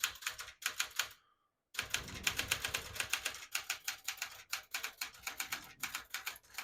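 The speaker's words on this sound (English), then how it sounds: "I'll type a sentence in red on the next line, switch from black to red." Rapid, rhythmic keystrokes on a 1971 Smith-Corona Super Sterling portable manual typewriter typing in red ribbon, close and crisp, with a brief pause before continuing in steady bursts.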